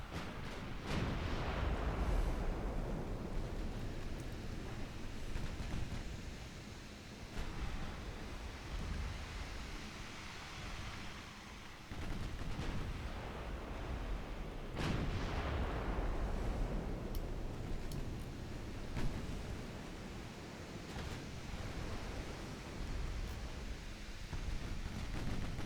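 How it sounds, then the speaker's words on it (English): Six-inch naval guns boom out in a British naval campaign battle, sounding as a steady roar of deep rumbling blasts with a few sharper reports rising over the constant din. "the Oakland getting savaged by 6-inch guns"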